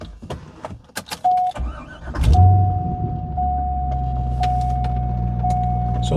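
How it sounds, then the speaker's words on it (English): A C5 Corvette starts up: a couple of clicks and a short whirring crank, then the engine catches with a loud rising roar and settles into a steady, deep idle. "let me start this car right up here"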